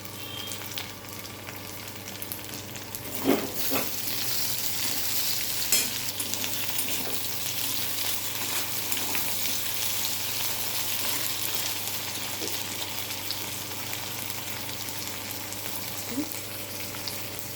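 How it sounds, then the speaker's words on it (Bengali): Ivy gourd sautéing with chopped tomato in a pan, a continuous close sizzle with occasional spatula scrapes and knocks against the pan, steady and without talk. "এটা ভালো করে একটু কষে নেব। এর মধ্যে দিয়ে দেবো টমেটো কুচি।"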